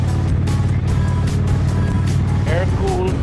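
An Indian Springfield motorcycle's air-cooled V-twin engine with Sharkroad exhausts rumbles loud and steady, a deep continuous idle throb close by, while someone talks over it.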